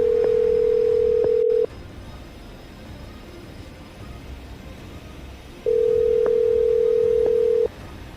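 Telephone dial tone while calling someone back, a steady tone heard in two long stretches with quiet line hiss between them.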